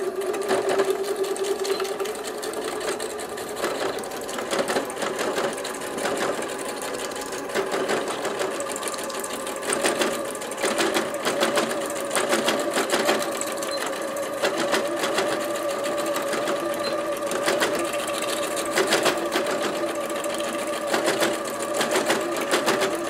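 A sewing machine stitches through card with fuchsia thread, a steady, fast mechanical whir and needle chatter running continuously at an even, moderate level, close by, with no one talking.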